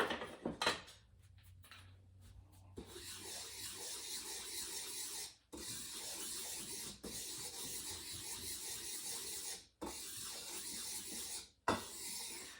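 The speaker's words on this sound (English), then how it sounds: "And then we need to whisk that together." Dry molasses cookie ingredients, salt among them, being whisked in a bowl: a fast, continuous scraping rattle of wire against the bowl, close and steady, broken by a few brief pauses.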